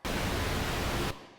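Pink noise test signal bursts on abruptly, a dense, even broadband hiss held at steady loudness for about a second before cutting off into a much quieter low rumble.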